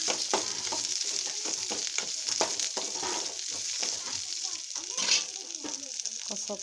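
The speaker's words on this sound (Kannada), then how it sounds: "ಎಣ್ಣೆ ಒಳಗೆ ಚೆಂದಾಗಿ ಫ್ರೈ ಮಾಡ್ಕೊಂಡು ಅವ್ರಿಕಾಯಿ ಹಾಕೊಂಡ್ಬಿಡಂದ್ರೆ" Broad beans (avarekai) fry in hot oil, sizzling loudly and crackling in quick bursts as they are stirred close by, with no talking.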